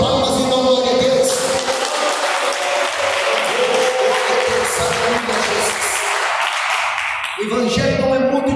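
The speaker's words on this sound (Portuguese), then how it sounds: "Batam palmas e dão glória a Deus." Church congregation clapping hands during a live worship service, a dense rattling clap mixed with sustained music and voices that fades briefly before rising again.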